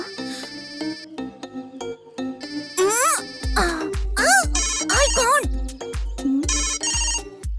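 Phone ringtone plays loudly and up close, a melodic electronic tune with repeated bright notes and pulses, mixed with dubbed film audio and bursts of speech.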